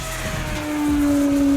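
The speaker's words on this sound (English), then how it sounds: "so you can get some impressive flybys with it on the stock propeller" An E-flite Timber RC bush plane on its stock 11x6 propeller makes a flyby, a droning engine-and-prop tone that swells louder and rises slightly in pitch as it passes close.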